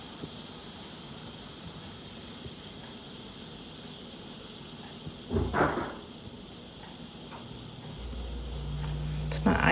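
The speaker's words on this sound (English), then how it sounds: "It's my ice maker dropping ice cubes, if you heard that." A home ice maker drops ice cubes in a kitchen, a short clattering burst partway through, faint under a steady background hiss, followed by a low hum.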